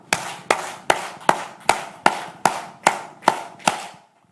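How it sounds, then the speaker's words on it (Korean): A crowd at an evangelistic gathering claps in unison ten times, each sharp, loud clap evenly spaced about every 0.4 seconds, with no talking in between. "자 이번에는 자 박수 10번 크게 시작."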